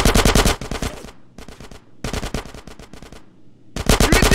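Machine gun fire in GTA San Andreas rattles out in loud rapid bursts with short gaps between them, up close, with no voices over it.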